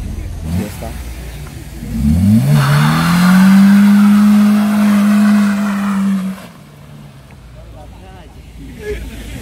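A car's 3.5-litre engine revs up hard and holds a loud, steady roar for several seconds before dropping away, with faint voices around it.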